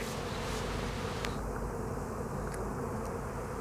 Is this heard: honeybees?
yes